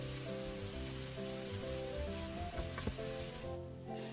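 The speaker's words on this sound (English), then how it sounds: "I let the fat from the corned beef fry the potatoes." Potatoes fry in rendered corned beef fat in a pan, giving a steady close sizzle with soft crackles and a brief stirring scrape near the end.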